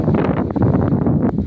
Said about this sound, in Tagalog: Lakas ang hangin sa Malaysia.